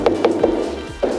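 A cheese checker taps an aged Parmigiano Reggiano wheel with a small hammer, giving five or six close, dull wooden knocks in quick uneven succession.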